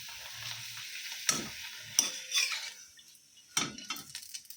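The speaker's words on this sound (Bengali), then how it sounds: "তো পাঁপড়টা ভেজে নিচ্ছি।" Papad frying in hot oil in a home kitchen, a soft steady sizzle broken by a few sharp crackling bursts and clinks of utensils, close by with no talking.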